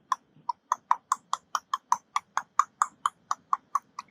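A voice imitates the steady clip-clop of horse hooves pulling a cart, about eighteen quick even clicks in a brisk trotting rhythm, close and clear.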